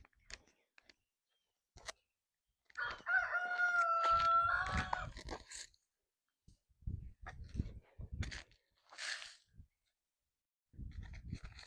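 Backyard chickens cluck in scattered short bursts while a rooster crows once loudly and close by, with a few quieter clucks and rustles following; no talking.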